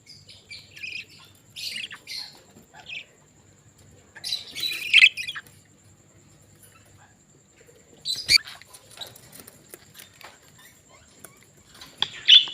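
Budgerigars squawking and chirping in an aviary at a breeding nest, with sharp chattering bursts in several clusters separated by quiet gaps, fairly close and alone.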